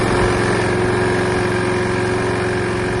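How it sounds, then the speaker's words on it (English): A freshly repaired Hayter Harriet 41 lawnmower, previously a non-starter with a snapped speed variation cable, runs at a steady loud drone with a constant engine hum and no pauses. "your lawnmower is now fully repaired and ready for action"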